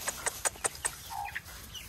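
Chickens cluck in a quick run of five or six sharp, close notes, followed by a softer trailing cluck against a quiet background.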